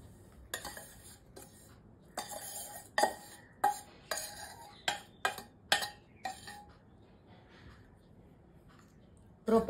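Crushed edible gum is stirred together with roasted flour and coconut in a metal bowl for Gujarati gund ladoo, giving a quiet series of close, sharp clinks and scrapes of spoon against metal in irregular bursts.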